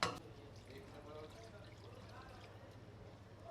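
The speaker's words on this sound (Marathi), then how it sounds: "आता पाणी टाकायचा" Water poured into a pan of simmering crab masala in a home kitchen, a faint, steady trickling pour lasting a few seconds, with soft talk nearby.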